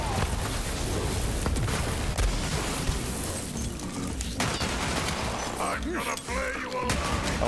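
Gunfire from guns in Borderlands 3 runs as dense continuous shooting with booming impacts throughout, mixed with game noise and a faint voice.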